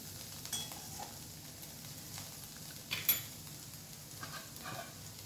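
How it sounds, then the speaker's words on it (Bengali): Spiny gourd fries in a little oil in a pan while being turned, a quiet steady sizzle with occasional soft scrapes and clinks of the utensil. "সবজিগুলোকে সেদ্ধ করে নিয়ে সামান্য একটু ফোড়ন দিয়ে এইভাবে নাড়াচাড়া করলেই হয়ে যাবে।"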